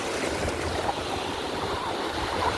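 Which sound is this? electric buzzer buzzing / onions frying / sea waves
sea waves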